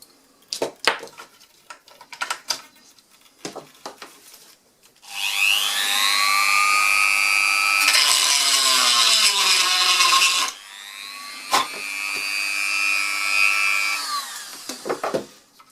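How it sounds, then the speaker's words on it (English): A Dremel rotary tool whines in short, steady bursts as it trims a V-tail model airplane part, broken by pauses filled with light clicks and handling taps on the workbench. "So I'll do that with the Dremel."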